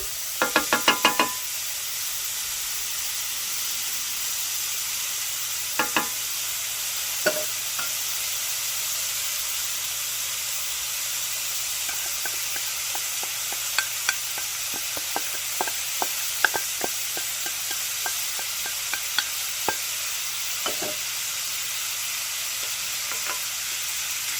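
Two pounds of bacon frying in a pan give a steady bright sizzle and hiss throughout, with occasional sharp pops and knocks, close and alone with no talk.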